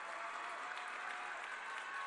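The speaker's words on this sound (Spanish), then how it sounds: "un fuerte aplauso a la presidenta Claudia Sheinbaum." Faint, distant audience applause for Mexican president Claudia Sheinbaum at a Mexico City cable car project event, a steady wash of clapping throughout.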